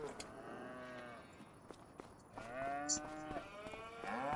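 Several cows moo from a farm in Farming Simulator 25, the long drawn-out calls coming one after another and overlapping, moderately loud and with no talk over them.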